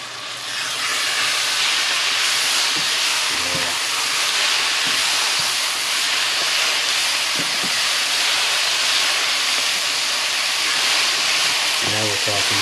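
Homemade chili cooking in a pan gives a steady, loud broadband sizzle and hiss, continuous throughout, with a few brief knocks and clatters near the start and end.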